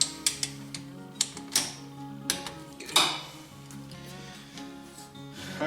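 Torque wrench tightening the engine head bolts on a Yamaha Timberwolf ATV to 18 foot-pounds, heard as a series of sharp, close metallic clicks and clinks in an irregular rhythm, followed by quieter fiddling with tools.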